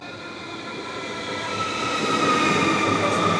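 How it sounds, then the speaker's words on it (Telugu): A passenger train pulls into a station platform in Israel, its rumble and rail noise growing steadily louder as it approaches, with faint high squeals from the wheels. "ఇదిగోండి ఇదే మన ట్రైన్."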